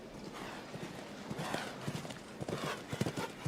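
Horse hooves clip-clopping on the arena surface at a Nations Cup show jumping event, with a fit 15-year-old horse on course; steady repeated hoof beats at moderate distance, occasional louder thuds, over a faint ambient background.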